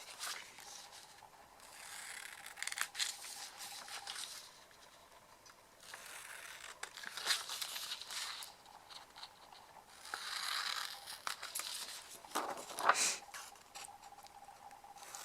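Scissors or a cutter snip and rasp through small pieces of card stock in uneven close bursts, with brief pauses and light paper handling between cuts.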